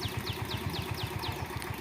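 A tractor engine chugs steadily at idle in a field nearby, a rapid regular thumping beat with a faint repeating chirp above it.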